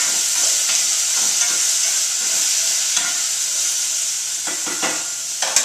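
Asparagus tossed in a hot pan, a steady close-up sizzle and hiss with occasional scraping stirs, heard alone without talk.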